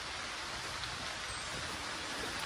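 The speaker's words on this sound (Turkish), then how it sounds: "Ama yok, yağmur da yağıyor, evet." Steady outdoor rain falls as a dense, even hiss that stays constant throughout, with no voices or other distinct sounds over it.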